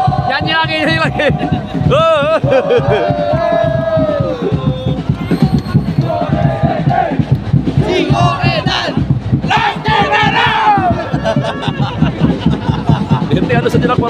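Thousands of fans at Jalak Harupat stadium, during an Oxford versus Arema football match with the stadium lights out, sing together in a loud, continuous roar of massed voices with rhythmic chanting.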